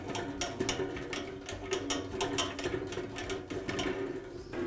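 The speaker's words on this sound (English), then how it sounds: "I'll loosen the tension on the blade." Blade tension being loosened on a Jet bandsaw during repair; a continuous close ratcheting, clicking mechanical rattle of a crank and gears, steady and moderately loud, with no talk.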